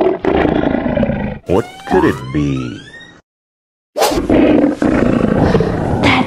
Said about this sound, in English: That might roar so fierce and strong. It's a lion.